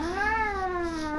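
A cat meows inside the Spider-Man PS4 video game, one long drawn-out, whiny meow that rises and then slowly falls, close and fairly loud, with no talk over it.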